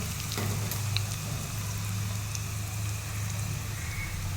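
A tadka of chili, turmeric and crushed garlic sizzles in hot oil for masoor dal, a continuous close crackling hiss with a low steady hum underneath and a few small pops, fairly quiet throughout.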